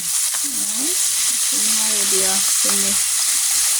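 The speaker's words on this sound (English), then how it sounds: "today I'm just frying some chicken" Steady hiss and sizzle of chicken frying in hot oil, loud and continuous, with a brief voice faintly audible underneath.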